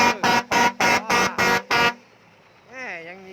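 A truck's horn blasts six times in a quick, even rhythm, loud and close, at a construction site where trucks haul loads; the honking stops and a brief voice follows.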